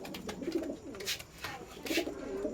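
Pigeons coo in soft, repeated throaty calls close by, with faint rustling and a few brief sharper sounds between them.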